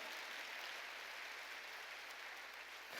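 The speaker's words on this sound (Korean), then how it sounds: "박수 쳐야지요." Congregation in a church hall clapping in unison, a faint and distant continuous patter of many hands that stays steady throughout.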